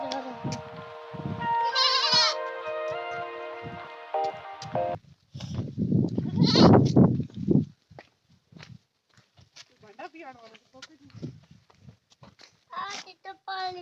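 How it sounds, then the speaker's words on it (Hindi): Two goats bleat close by, loud wavering calls between spells of talking and footsteps, with quieter bleats and voices later. "अरे भाई दोनों बकरियों को लेकर आते हैं।"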